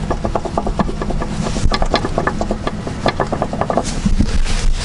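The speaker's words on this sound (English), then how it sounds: "you can hear the noise from this bushing" Creaking, grinding squeaks from a worn upper control arm bushing and ball joint on a 2007 Honda Accord as the arm is pried up; close, loud, repeated rubbing clicks in an irregular rhythm.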